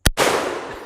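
A single sharp, loud shot from a .44 Magnum lever-action rifle fired at a steel target outdoors, with a sudden crack followed by a long, decaying boom.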